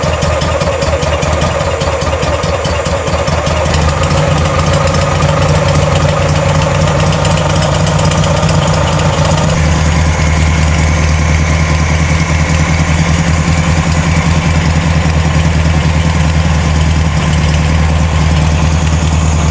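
A VW engine fitted to a Ford Model T kit car from around 1960 idles rich on a bad carburetor, chugging loudly and steadily up close, with an uneven, knocking rhythm that shifts midway.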